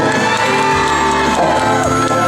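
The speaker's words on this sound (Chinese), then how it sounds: "予家己一个鼓仔声，啊，搁加一下尖叫声" A concert crowd at a live show in Luzhu cheers and screams, a loud continuous roar of whoops and shouts layered over music.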